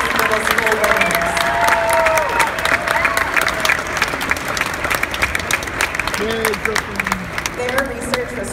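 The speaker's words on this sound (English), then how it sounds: "Let's give a huge round of applause to all of our first place middle school winners." A crowd at a middle school science fair awards ceremony claps and cheers for first-place winners, steady applause with whoops and voices rising above it.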